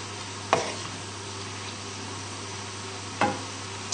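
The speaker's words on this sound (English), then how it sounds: "leave it on the hob just to bubble away" Cream bubbling and sizzling in a pan on the hob, a soft, steady close-up simmer with two brief knocks of utensil against pan along the way.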